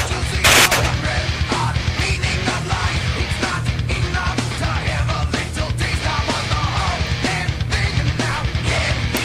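Video game gunfire rattles in rapid bursts, sharp repeated shots over a steady low rumble, with a yell near the start and continuous loud action throughout.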